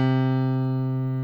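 A single digital piano note sustained steadily by the middle delay tone pedal, ringing clean and even at moderate level with no decay in its harmonics.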